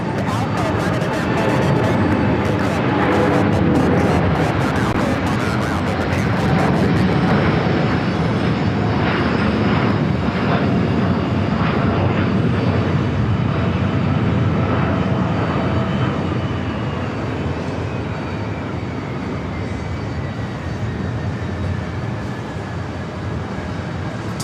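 A jet airliner takes off at JFK airport bound for Boston, its engine roar loud and sustained throughout with a broad rushing tone, while a voice talks faintly underneath.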